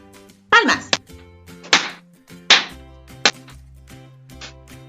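Hands clapping as body percussion: a handful of sharp, close claps in an uneven rhythm, some in quick pairs, over a soft sustained musical accompaniment.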